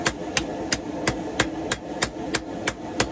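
Hammer blows forge welding a wrapped-eye axe made from railroad scrap, about ten sharp metallic strikes in a steady, even rhythm, moderately close and with no talk.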